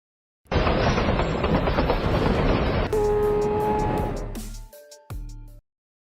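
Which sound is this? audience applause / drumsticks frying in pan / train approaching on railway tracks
train approaching on railway tracks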